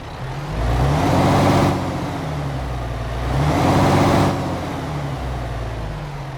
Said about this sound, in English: let's go ahead and get our MAN truck started up and get on the road